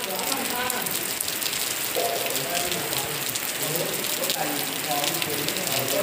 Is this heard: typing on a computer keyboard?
no